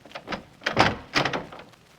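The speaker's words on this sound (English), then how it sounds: "Why don't you try the door?" An indoor door is tried and pushed open, giving a short run of knocks, clunks and latch rattles over about two seconds, close and fairly loud.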